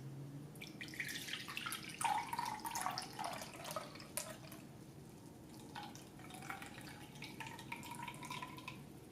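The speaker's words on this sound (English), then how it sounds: "Pour out the juice." Juice pours and trickles from the spout of a Cuisinart CJE 1000 die-cast juice extractor into a container, with gurgling and a rising fill tone, quiet and close.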